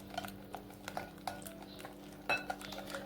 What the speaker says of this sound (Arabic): غادي نضيف كاس ديال الزيت مع مرش